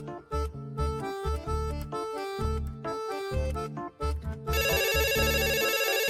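An incoming call sets off a mobile phone ringtone, loud and close, playing a melodic tune in repeating bursts with short gaps before it shifts to a brighter, steady ringing pattern.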